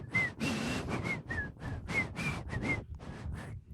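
Short, breathy whistles from someone struggling to whistle, several wavering tones in quick succession with airy hiss between them, close and fairly loud, no talk.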